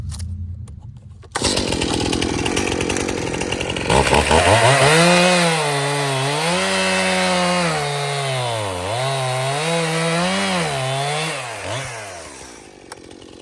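Chainsaw with a freshly sharpened chain cutting through wood: the engine starts up, then revs into a loud, sustained cut with pitch dipping and rising as it bites under load, running steadily for several seconds before easing off.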